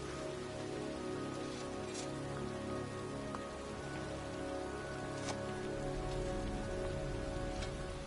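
Steady rain in the video game Heavy Rain falls continuously, a soft even patter with occasional louder drops, no voices.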